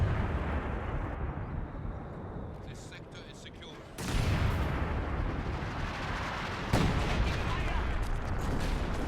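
Counter-battery artillery barrage in Company of Heroes 2, a 2v2 match, with dense continuous rumbling impacts and two sharp, louder bursts partway through under a steady din, and speech mixed in.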